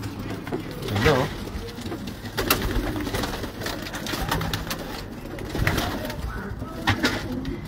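Pigeons coo softly inside a pigeon loft, low throaty calls repeating throughout while people talk nearby.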